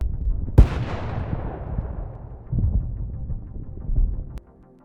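Explosion from an FPV drone strike on a Russian soldier in combat, a sharp loud blast followed by a long rumbling decay, with further dull thuds and booms over the next few seconds before cutting off.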